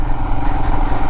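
A Royal Enfield Himalayan motorcycle engine idling steadily just after being started following a month and a half of sitting unused, a close, loud, even rumble with no talk.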